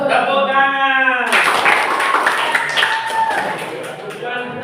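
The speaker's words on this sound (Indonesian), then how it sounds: "Tepuk tangan." A fourth-grade class claps in rhythm, a burst of quick patterned hand claps from many children that follows a teacher's spoken cue and trails off into classroom chatter.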